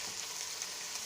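Chopped leeks sizzling in a hot pot with carrots for vegetable soup, a faint steady hiss with no talking.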